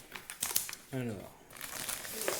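Packaging crinkles as an RGB mouse pad, the AUKEY KM-P6, is unboxed, giving close, scattered rustles and crackles around a brief stretch of talking.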